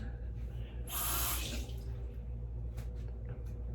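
Water runs from a sink tap to rinse dentures, a brief loud splashing gush lasting under a second before fading to a quiet room hum and light drips.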